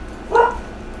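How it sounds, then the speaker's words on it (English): A pet dog gives a single short, mid-pitched bark indoors, close by and clear over a low background hum. "What are you barking at?"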